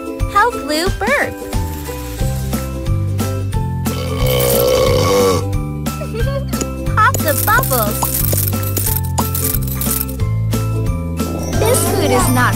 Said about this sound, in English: Help Lou burp.